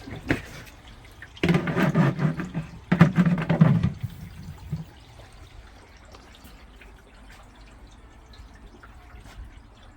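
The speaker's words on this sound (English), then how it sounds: "It starts draining as it should." Water drains and gurgles through a DIY three-barrel pond filter, with a louder splashing rush in two bursts early on, then settling to a faint trickle.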